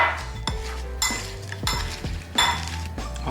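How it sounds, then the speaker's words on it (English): Potatoes tossed with grated Parmesan and spring onions in a bowl, giving repeated clinks and scrapes of utensil against dish in a few bursts, close and moderately loud with no talking. "we'll go in 1 spoonful of Parmesan cheese that was grated, then some spring onions, and then just give it a quick toss"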